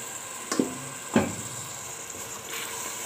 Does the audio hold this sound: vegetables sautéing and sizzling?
yes